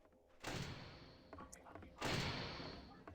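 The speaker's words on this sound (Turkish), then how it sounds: "Kapa şu kapıyı ağzına ederim." Door in the Roblox horror game The Rake, heard as two loud broadband thuds or slams about a second and a half apart, the second followed by a long rumbling tail, with smaller knocks in between.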